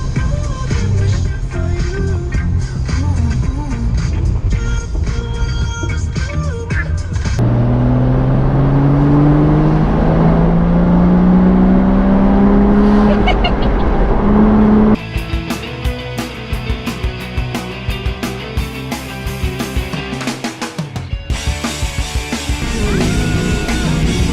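Mazda MX-5 Miata NA driven with the top down, loud engine and wind roar with rising revs through the gears, broken by abrupt cuts between passages.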